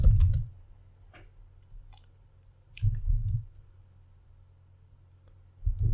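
A SQL query typed on a computer keyboard: short bursts of rapid key clicks, close and fairly quiet, separated by pauses of near silence.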